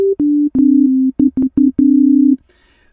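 A pure sine-wave synth tone from Ableton's Operator, played from a MIDI controller as a run of loud, clean sustained notes of uneven length with short gaps. The last notes step down slightly in pitch and the line ends abruptly in near silence.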